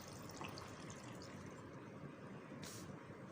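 Water poured into a jug for cucumber juice in a home kitchen, a steady continuous splashing pour with a brief brighter spatter near the end, no talking.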